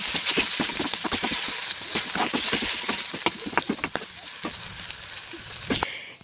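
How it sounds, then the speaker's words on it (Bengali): Potato pieces frying in hot oil with cumin and radhuni for a bitter gourd and singhi fish curry, a steady close sizzle broken by frequent sharp crackles and pops, no talking. "আলুগুলো একটু ভেজে নেবো।"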